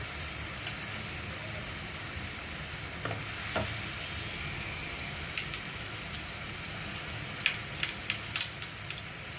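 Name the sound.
onions frying with ginger garlic paste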